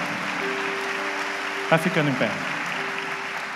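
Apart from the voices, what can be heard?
church congregation applauding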